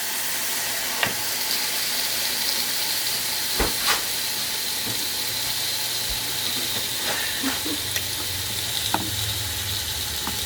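Food sizzles steadily in a hot pan, a continuous broadband fry hiss with occasional pops and clicks from utensils, close and moderately loud, with no talking.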